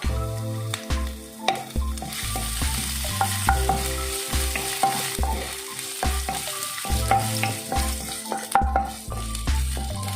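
Garlic, ginger and green chili sauté in hot oil, with a steady close sizzle broken by repeated rhythmic stirring scrapes in the pan and no voices.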